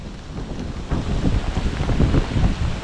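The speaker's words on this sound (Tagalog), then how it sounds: "grabe nga pasin yung hangin dito mga kalito. Lakas oh." Strong wind gusts buffet the microphone outdoors in a tomato garden during a typhoon, a loud rough roar swelling and easing in uneven bursts.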